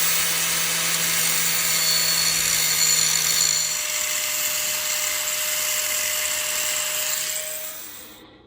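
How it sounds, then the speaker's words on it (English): A grinder contouring a steel fender bracket on a 1950s Harley JD bobber, a loud continuous high-pitched whine that holds steady, shifts slightly in pitch partway through and then winds down at the end. "With that grinder, just make a little contour in that bracket so I don't have to gap weld that fender."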